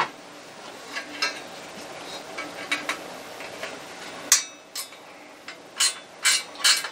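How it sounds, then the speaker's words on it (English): A ratcheting wrench clicks in short irregular bursts while a button is being taken off, faint and close with quiet pauses between the clicks. "Now I've got a set of ratcheting wrenches here that I keep in my shop."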